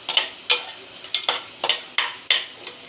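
A dry mixture of cumin, coconut and garlic cloves roasts in a pan, marked by about nine sharp, evenly spaced scraping strokes of a spatula over a faint low background.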